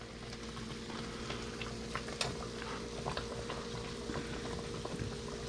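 Green salsa sauce simmering and bubbling in a pan on medium-low heat gives a low, steady crackle with quiet popping and stirring sounds, and no voices.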